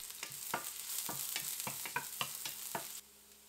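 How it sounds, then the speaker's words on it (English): Sliced shallots sauté in hot vegetable oil in a pan, a steady close sizzle broken by a run of regular scraping stir strokes, for a Vietnamese stir-fried glass noodle dish. "Add the sliced shallot and sauté until fragrant."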